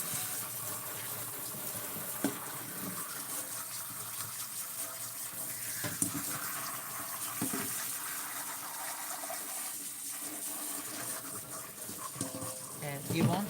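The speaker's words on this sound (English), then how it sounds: "you want to wash the doll's body on every angle because you want to make sure you get all of the soap out" Running water pours steadily over a used American Girl doll's body as it is rinsed from every angle to clear out soap, with faint handling noises and occasional soft bumps throughout.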